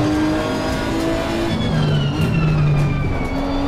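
Nissan GTR race car in the racing game Assetto Corsa Competizione, its engine revving loudly and continuously with shifting pitch as it accelerates through gears, a close, sustained mechanical roar.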